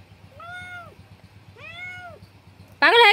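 Cats meow over a big fish they are eating, two drawn-out close meows about a second apart, followed by a louder, sharper yowl at the end over a low background rumble.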